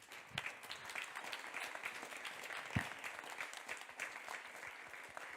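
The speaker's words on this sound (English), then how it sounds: "Big applause to Stockholm" An audience at a talk applauds steadily for several seconds, a fairly faint, even patter of many hands clapping.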